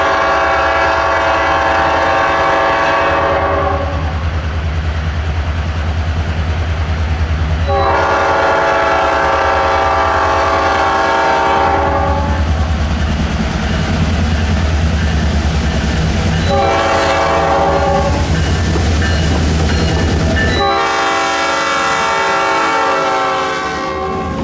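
A train rumbles loudly past at close range, its horn blowing in several long blasts over the steady roar and clatter of the wagons.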